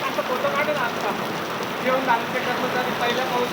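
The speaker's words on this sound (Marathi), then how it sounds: "सलग दुसऱ्या दिवशी अवकाळी पाऊस पडलेला आहे" Steady unseasonal rain in Pune patters and hisses across a hard surface, continuous and fairly loud, with faint background noise and no clear voices.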